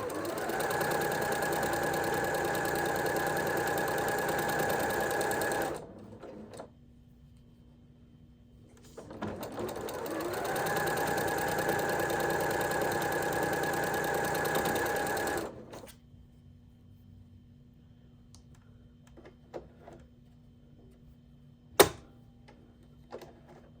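Sewing machine stitching through quilted fabric for a clothing embellishment, running steadily in two long loud stretches separated by a short quiet pause, then falling silent apart from a low hum and a single sharp click.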